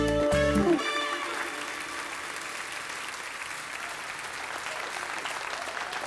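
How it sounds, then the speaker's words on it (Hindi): Applause from a college audience after a dance performance by female students: music cuts off, then steady, lively clapping from a crowd continues evenly to the end. "हमारे कॉलेज की कन्याओं द्वारा प्रस्तुत किया गया इस नृत्य पे जोरदार तालियां बनती"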